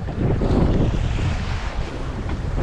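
Strong wind and choppy waves on a stormy sea off Denmark during salmon fishing from a small boat, a loud continuous roar with rumbling wash and gusting wind noise across the microphone, no voices.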